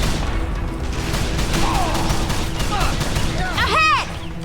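Gunfire in the Call of Juarez: The Cartel shooter game, rapid overlapping shots crackling over a dense battle din, with shouted voices in the mix.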